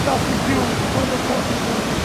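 Waterfall at Fourteen Falls in Kenya, a loud, unbroken rush of falling water that fills the whole moment as a dense, even roar with no pauses.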